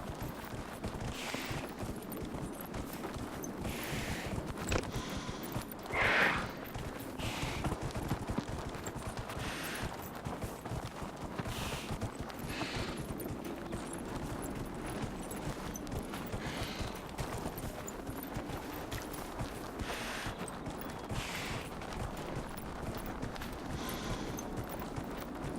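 Horse hooves clip-clop steadily at a moderate pace while riding in Dragon Age Inquisition, a continuous rhythmic patter under background game ambience, with one brief louder accent midway.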